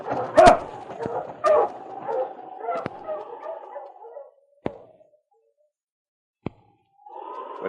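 Sled dogs in a Yukon radio drama bark and yelp close by in a quick burst of yips, then fall quiet with two sharp isolated cracks before a low murmur returns.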